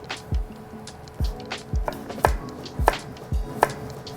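A knife cuts a carrot into matchsticks on a board, with about eight sharp, evenly spaced chops, each a crisp close thud and click, and no talking.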